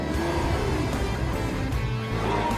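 A 2012 Lamborghini Aventador's engine revs hard, a loud dense roar close by that holds steady for a couple of seconds.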